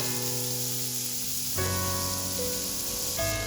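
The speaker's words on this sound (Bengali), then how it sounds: "পেঁয়াজটা আমি কুচি করে নিয়েছিলাম, সেটাও আমি তেলের মধ্যে দিয়ে দিলাম। হালকা করে এটা ফ্রাই করব।" Chopped medium onion frying in oil for a Bengali rui posto fish dish, a smooth continuous hiss and sizzle that swells in intensity as the cooking goes on.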